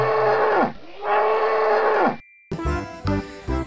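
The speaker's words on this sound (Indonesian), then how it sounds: "Dan juga kerbau nih teman-teman." Buffalo in the video game Jurassic World Evolution 2 give two long, loud, close moos, followed by a burst of other layered in-game animal and ambient sounds.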